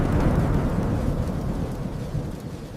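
A thunderstorm with strong wind and rain delivers a continuous low thunder rumble over steady rain hiss, loud at first and gradually fading.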